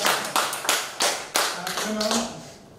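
Applause breaks out at a Korean singers' meet-and-greet gathering in Daegu, heard as a few separate bursts of claps, moderately loud, with murmured voices mixed in toward the end.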